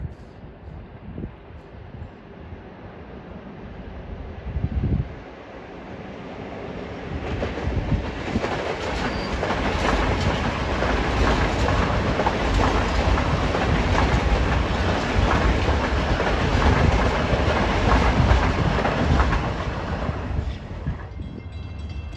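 Long Island Rail Road train 2096, bound from Atlantic Terminal to Ronkonkoma, pulls out of New Hyde Park station, its rumble and wheel clatter building steadily from quiet to a loud sustained roar close by.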